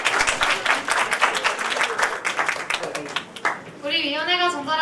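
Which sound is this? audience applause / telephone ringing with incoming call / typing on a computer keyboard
audience applause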